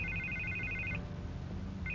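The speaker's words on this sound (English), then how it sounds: "I can't get the phone to stop ringing." A telephone rings in the video game Batman: A Telltale Story, with a repeating electronic trill that stops for a beat before starting again, faint and in the background with no talking.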